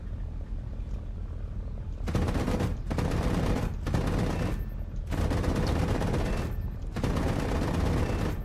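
Machine gun strafing fire in a video game: loud sustained bursts of rapid gunfire, several long volleys broken by short pauses, close and dominant.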